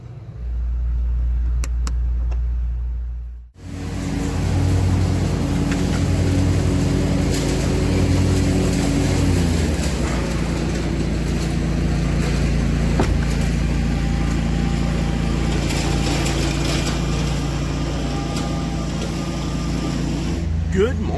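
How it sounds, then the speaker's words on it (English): Lawnmowers cutting grass in a park, a steady low engine drone that runs almost throughout at moderate loudness after a brief quieter start, with the pitch shifting slightly partway. "you'll have to excuse the lawnmowers, they're doing the grass mowing today"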